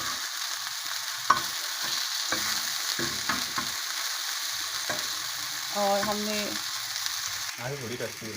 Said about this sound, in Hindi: अब हम इसको फ्राई कर रहे हैं।